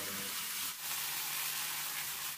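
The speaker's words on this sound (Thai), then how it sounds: "มะเขือเทศหั่นเต๋า1ลูกผัดจนสุก" Diced tomato and onion sizzle steadily in a hot pan while tofu is being cooked, a soft continuous frying hiss with a brief pause partway through.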